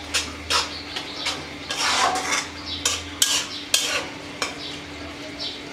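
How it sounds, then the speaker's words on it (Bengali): A spatula stirs prawn and Malabar spinach curry in a metal pan, giving irregular close scrapes and clinks over a faint sizzle and a low steady hum, with no talk. "আবার একটু নেড়ে দিচ্ছি।"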